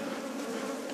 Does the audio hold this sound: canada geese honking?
no